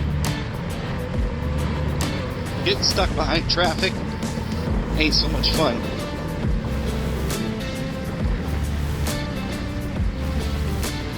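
A Can-Am Maverick R X RS off-road vehicle climbs hills over red rock terrain, its engine a steady loud rumble with gravelly knocks and bumps, while people talk over it throughout.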